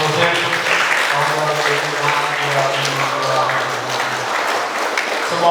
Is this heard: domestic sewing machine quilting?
no